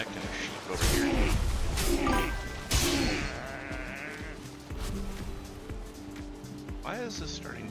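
Sheep in the video game Valheim bleating several times in short calls, mixed with game sound effects and someone talking over them.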